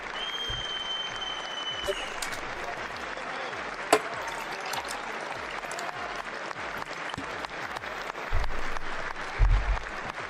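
Thunderous applause fills the chamber at the State of the Union, a continuous crackling roar of many hands that holds for ten seconds while voices talk faintly beneath it.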